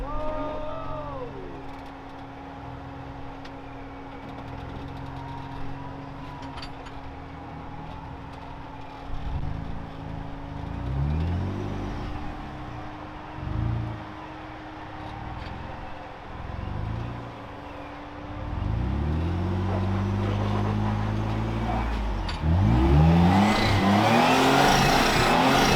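A truck engine revs in repeated surges as its tires spin while stuck in ruts, rising and falling bursts that grow louder and rougher toward the end, with an engine drone underneath.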